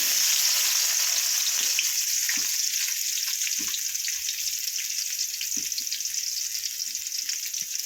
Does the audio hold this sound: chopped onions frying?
yes